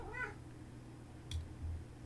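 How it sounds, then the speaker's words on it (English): A house cat gives a brief, faint meow far in the background near the start, then a short sharp click follows against low steady room hum; nobody speaks. "Does the cat shriek in the background?"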